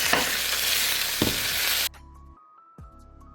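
Ground beef frying in a pan with garlic, paprika, Italian seasoning, curry and red pepper flakes, loud steady sizzle with scraping stirs, then suddenly dropping to faint clinks and quiet.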